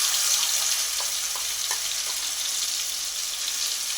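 Spice mixture with whole garam masala frying in oil gives a steady, even hiss with a few faint clicks of stirring, close and unbroken with no voices.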